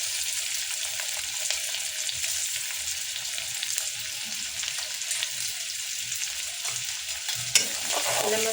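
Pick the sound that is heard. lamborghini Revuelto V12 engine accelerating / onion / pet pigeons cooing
onion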